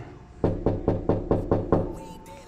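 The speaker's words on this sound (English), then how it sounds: "Knock on that joint again." Knocking on a door: six loud, evenly spaced raps close by, followed by a short quiet stretch with faint background sound.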